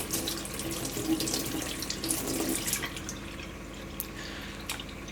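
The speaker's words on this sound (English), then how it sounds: "clean them up under some lukewarm water" Lukewarm tap water runs steadily into a sink while wood pigeon breasts are rinsed under it, a continuous splashing hiss with a few brief spatters, no talk.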